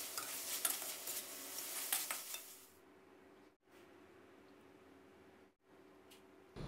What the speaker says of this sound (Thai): ตามด้วยผัดกะเพรา2กำมือหรือใส่ลงไปตามชอบได้เลยนะครับแล้วก็ผัดให้เข้ากันเล็กน้อยนะครับ